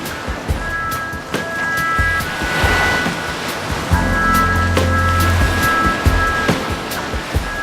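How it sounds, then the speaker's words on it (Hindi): Sea waves wash onto a sandy tourist beach in southern India, loud and close, with continuous surf and gusty wind noise against the microphone and no talking. "यहाँ के समुद्री किनारे सैलानियों को बरबस अपनी ओर खींचते हैं।"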